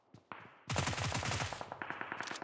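Rapid automatic gunfire in the PUBG Mobile video game, with loud, close bursts of machine-gun shots in quick succession, pausing briefly before fading into sparser shots, with no talking.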